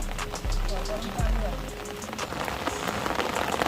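Heavy rain pours steadily over a flooded village, a dense, continuous hiss of drops on water and surfaces, close and loud throughout, with a couple of low thumps early and someone talking over it.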